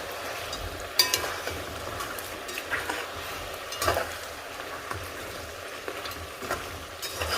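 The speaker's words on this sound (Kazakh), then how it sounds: "Және де барлық етке тию үшін жақсылап араластырамын." Chunks of meat for kazan kebab, seasoned with salt and pepper, are stirred in a hot kazan: steady sizzling frying with repeated scraping stir strokes and occasional sharp clinks, close up, with no talking.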